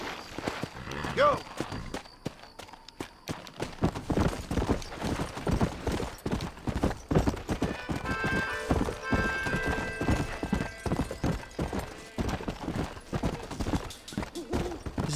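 A horse in the Western video game Red Dead Redemption clip-clops along in steady rhythmic hoofbeats, close and fairly loud, with someone speaking over the gallop and game music rising in the middle.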